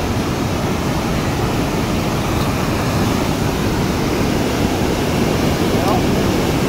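A strong river current rushes beneath a bridge, a loud, steady, broadband roar of turbulent water that fills the whole stretch without pause, close and unbroken.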